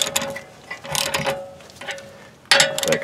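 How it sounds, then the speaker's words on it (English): A ratchet cranks down spacers on a homemade press for a BMW rear wheel bearing, built from plumbing supplies; short bursts of clicking come in several separate strokes up close, with pauses between. "so now I'm just going to crank them down"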